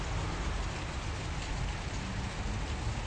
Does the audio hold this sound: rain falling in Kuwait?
yes